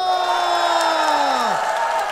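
A studio audience at a trot singing class cheers and applauds for a trot singer, a steady wash of crowd noise with a voice whooping and sliding downward near the end.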